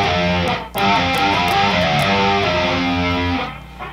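Distorted electric guitar playing a riff with repeated pull-offs on the low strings, loud and close, a brief gap early on and the notes fading near the end, no talking.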